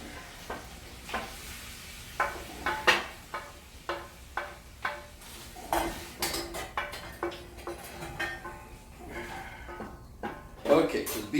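Beef being lifted out of a heavy sizzling pan of oil, faint frying hiss under repeated light metal scrapes and taps of a utensil against the pan in a steady rhythm, close by, with people talking.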